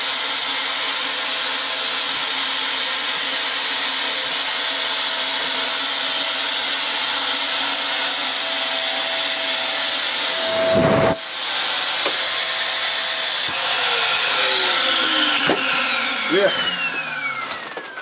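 Vax Air Steerable Max Pets upright vacuum cleaner, suffering no suction and a hair-clogged brushroll, running with a steady close hissing roar and a sharp rubbing burst midway, followed by a falling whine.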